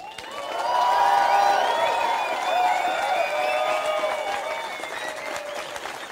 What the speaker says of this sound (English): give him a round of applause again